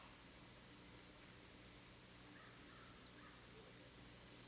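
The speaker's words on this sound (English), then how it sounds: "As the crows are caw-caw-cawing." Crows caw faintly in the distance during a quiet outdoor moment, their calls scattered in the middle seconds beneath a steady hiss and a high whine.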